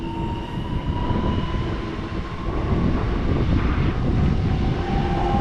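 Impuls electric multiple units roll by at Warszawa Toruńska, a steady, loud rumble of wheels and motors that builds slightly toward the end, with no voices.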